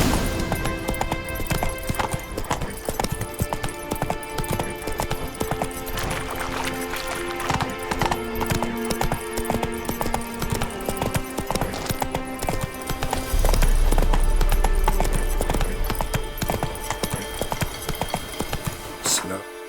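Roach the horse from Witcher 3 gallops steadily, hooves clip-clopping in a fast continuous rhythm with game ambience and music underneath, building louder toward the end.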